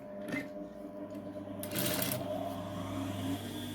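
A sewing machine stitches a folded sleeve hand design in a short, quiet burst, with a few soft handling clicks and rustles around it.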